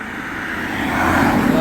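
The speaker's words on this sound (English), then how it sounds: "A lot of traffic." Traffic roars along Pennsylvania Route 94 at a highway crossing, a broad rushing drone of passing vehicles that grows gradually louder as cars approach.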